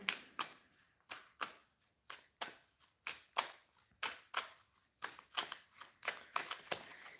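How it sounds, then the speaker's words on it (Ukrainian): Cards are shuffled steadily up close, a rapid series of crisp riffling bursts repeating in an even rhythm with no talking. "я тасую колоду."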